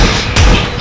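A bomb goes off during a PUBG match: one muffled, heavy thump with a brief noisy burst, close and fairly loud over steady game background, with no speech.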